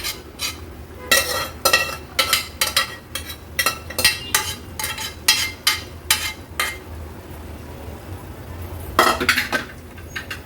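Cooked mutton kheema for Irani-style green mutton kheema goes into the pan and gets stirred, with repeated loud spoon scrapes and clinks against the metal over a faint sizzle, a pause, then a final burst of stirring.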